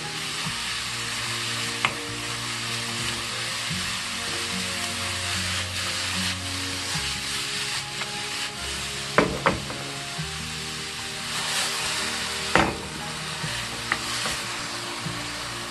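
Vegetables stir-frying in a hot pan, a continuous loud sizzle with a few sharp clicks of the utensil stirring through.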